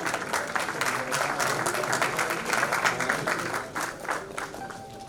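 An audience claps in a hall at an award ceremony as a nursing and paramedical college in Farrukhabad is honoured, with dense, rhythmic rounds of applause at moderate volume that taper off near the end.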